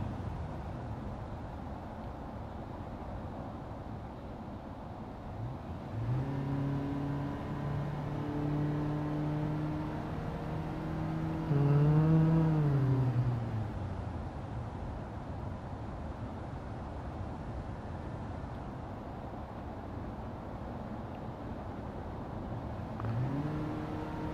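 Car engine humming through a lap in Gran Turismo 7, a steady mid-level drone that rises and shifts pitch as it accelerates, then eases back, continuous without talk.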